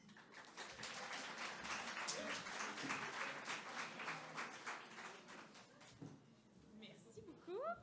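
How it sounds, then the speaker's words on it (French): Applause from an audience at a talk, sustained clapping from a room of people that thins out toward the end, with faint chatter underneath. "On l'applaudit."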